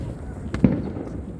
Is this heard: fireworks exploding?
yes